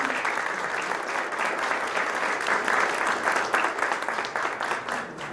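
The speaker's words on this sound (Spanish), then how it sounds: "a ver, por allá vamos a darles un aplauso." An audience applauds at an artisan products exhibition for a producer of handmade necklaces, sustained dense clapping from a crowd that swells slightly and then tapers off.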